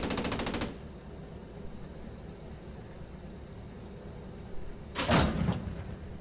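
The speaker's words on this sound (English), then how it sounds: "Stop shooting." Gunfire in the World War II shooter Post Scriptum: a rapid machine-gun-like burst opens, followed by a long quiet stretch of low rumble, then a second short burst of shots near the end.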